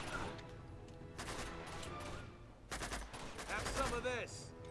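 Rapid bursts of gunfire in the video game Uncharted 2, crackling shots fired through wooden boxes in a firefight, with steady game noise behind.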